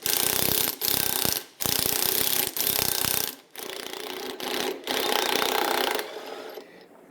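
Low-power pneumatic gun with a wire tool cleaning rust from the bolt threads of a Toyota 3UR-FE/1UR V8 Tundra engine, whirring in several bursts of about a second each with brief pauses between, close and steady, no talk.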